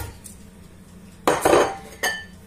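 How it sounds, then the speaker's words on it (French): Orange pieces and mint go into a blender jar, a few sharp clinks and clatters of produce hitting hard plastic or glass, loudest in a short burst midway with a final knock, over a quiet kitchen background. "vous mettez dans votre mixeur, votre blender, vous mettez l'orange avec la menthe"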